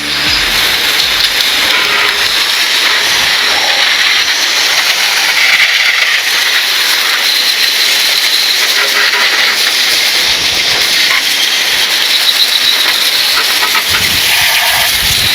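Water spray rinses off a motorbike, a continuous close, loud hiss of pressurized water that runs steadily throughout with slight fluctuations.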